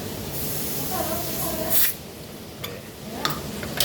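R600a refrigerant hisses out of a Panasonic inverter two-door refrigerator's system in a steady sustained spray, with a few sharper bursts near the end.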